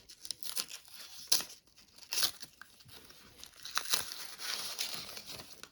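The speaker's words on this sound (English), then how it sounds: "I got to rip out the last little bits of paper" Leftover scraps of paper are ripped from a board studded with nails and rubber bands, producing several close, sharp tearing and crinkling bursts spread irregularly across the clip.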